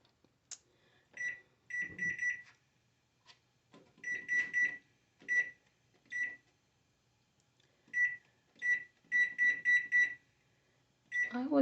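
A kitchen oven's timer beeps as it is set for baking an apple pie. Clusters of rapid, sharp electronic beeps come in irregular bursts separated by short pauses, close and clear.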